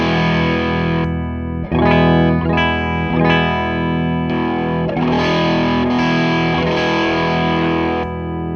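An electric guitar rings through a pedalboard as an effects pedal is switched on and off, the tone shifting between clean and a thicker, distorted and chorused sound several times while the guitar keeps playing sustained notes.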